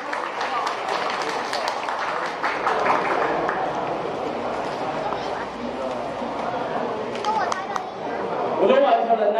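Crowd applause at an outdoor magic balloon show at Taoyuan Sports Park, a dense steady wash of clapping mixed with chatter and a speaking voice, rising slightly near the end.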